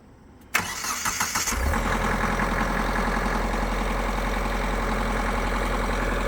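A Kubota LX tractor engine cranks briefly, catches and fires up, then settles into a steady, loud, low idle that runs to the end, with no talking.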